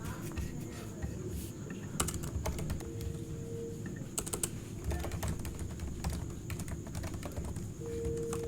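Soft, steady clicking of a computer keyboard as code is edited, with scattered faster bursts of keystrokes in a quiet room.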